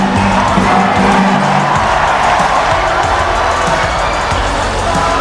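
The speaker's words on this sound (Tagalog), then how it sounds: "The energy of this crowd is ibang klase." A loud basketball crowd roars and cheers at an MPBL playoff game in Batangas, a sustained wall of arena noise with shouting voices throughout.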